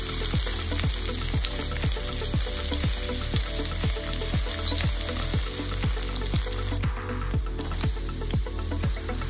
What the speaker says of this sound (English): Add green chilies, coriander stems, and crushed ginger garlic. Stew until the raw aroma disappears.